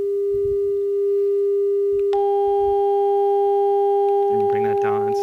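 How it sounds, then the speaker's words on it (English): A steady pure electronic tone simulating fan noise hums throughout, joined partway by a second, higher-frequency steady tone, with a voice briefly speaking near the end. "we'll try a higher order tone, which would be or a higher frequency tone"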